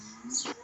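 A good-sized four-year-old cow with a calf moos once inside a barn, a single short, fairly loud low call rising into a brighter burst before fading.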